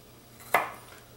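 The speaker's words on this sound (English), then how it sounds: "once I get done chopping the little ends off a whole bunch of these garlic cloves" A single sharp knife chop cuts the end off a garlic clove on a board, one brief close crack in a quiet kitchen.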